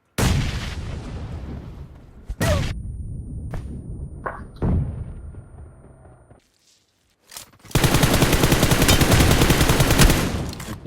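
Bursts of gunfire in the mobile battle-royale game PUBG Mobile: several sharp single shots and short volleys, a brief silent gap, then a loud sustained stretch of rapid automatic fire.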